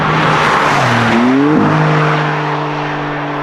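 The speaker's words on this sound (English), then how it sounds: "peel your ears for what this car is going to sound like with our exhaust system" A Maserati MC20 with its V6 engine and Novitec exhaust system roars loudly and close, revving up through rising gear tones with a brief shift, then holding a steady drone.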